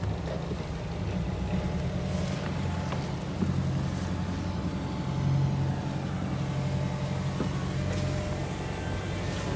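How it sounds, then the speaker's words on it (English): The diesel engine of a 2007 Jeanneau Sun Odyssey 45 sailboat idles steadily, a continuous low rumbling drone with a faint mechanical tick, heard close and unchanging throughout. "The engine turns over"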